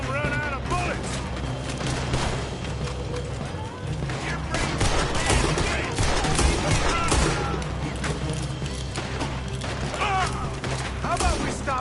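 Gunfire during a shootout in Red Dead Redemption 2, dense volleys of shots popping over a constant busy background of game sound, fairly quiet in the mix and continuing for the whole stretch.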